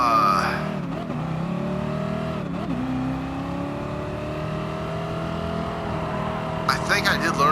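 A car engine in Gran Turismo holds a loud, sustained drone whose pitch climbs slowly under load, with a brief dip early on and a rasping burst near the end, close and steady.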